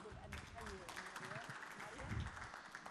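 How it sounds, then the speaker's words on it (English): An audience at the TotalEnergies CAF Champions League knockout-stage draw ceremony applauds, a moderate, fairly even clapping with voices talking over it throughout. "please a round of applause for Marianne"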